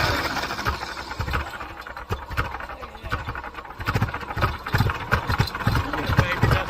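A Massey Ferguson 35 tractor engine cranks and runs with an uneven, chugging mechanical rhythm, loud and close, while people talk over it.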